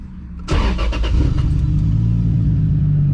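A car with a 2JZ engine running on E85 fuel cranks and fires up, then settles into a loud, close, steady idle with a few quick revs early on, and no talk.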